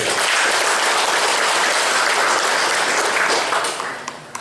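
Audience applause at an anniversary celebration for the BPKP West Java provincial office, a dense, steady clapping from a large crowd that holds for about four seconds and then thins toward the end.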